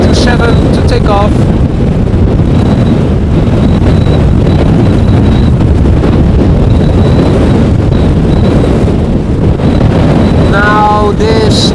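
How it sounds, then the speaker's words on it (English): Strong storm wind buffets the microphone at Amsterdam Schiphol airport, a loud continuous roar with gusty surges, and a voice briefly cuts through near the start and end. "almost getting blown away here"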